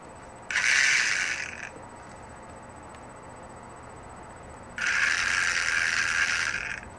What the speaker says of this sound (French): je vais vous montrer l'arbre de transmission en tour